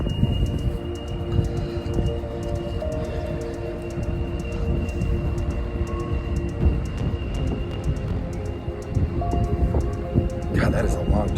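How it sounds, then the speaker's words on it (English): A long freight train passes on the Tehachapi Loop, a loud, steady rumble of rolling wagons with faint rhythmic clicking that continues throughout. "God, that is a long train."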